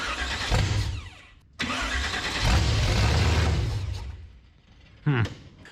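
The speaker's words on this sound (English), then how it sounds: "Give her ignition, she'll fire." A 1946 Chevy rat rod, garage built, cranks and fires on ignition, its engine catching with a loud rough roar that rises and settles, cut by a brief pause and a final burst; a voice is heard faintly.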